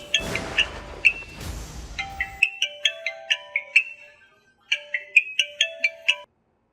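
A phone ringtone plays a bright, repeating electronic melody of short plinking notes in quick rhythmic bursts, pausing briefly before resuming, loud and close, first over some background noise and then alone.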